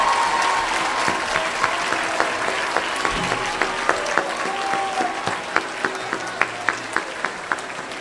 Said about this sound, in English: So if we could stand one more time and turn and applaud our folks.